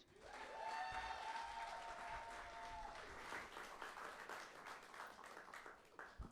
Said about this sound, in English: I'm going to ask that we still give a round of applause for these wonderful artists